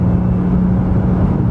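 A Nissan GT-R engine accelerating hard on a mountain road straightaway, a steady loud low drone heard close from inside the car, with no talk.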